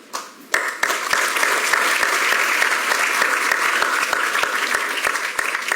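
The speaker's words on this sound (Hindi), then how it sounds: "जैकी श्रॉफ का नाम लेते ही आपने तालियां बजाई" An audience at a celebrity event for International Yoga Day breaks into applause after a brief quiet start, dense clapping holding steady for several seconds with a few sharper individual claps standing out.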